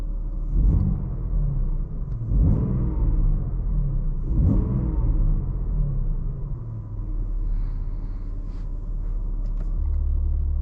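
A BMW M3 G80 with a manual gearbox, in Efficient mode with M Sound Control off, revs while stationary in three quick blips and then several smaller ones, close and fairly subdued over a steady idle rumble.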